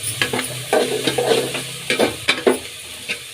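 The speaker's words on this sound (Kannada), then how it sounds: "ಈರುಳ್ಳಿ ಫ್ರೈ ಆಗಲಿ. ಈಗ ಕ್ಯಾಪ್ಸಿಕಮ್ ಸೇರಿಸ್ಕೊಳ್ಳೋಣ." Onion and capsicum frying in a pan for vegetable pasta, close up: an uneven run of clattering stirs and scrapes rides over a soft sizzle, with no speech.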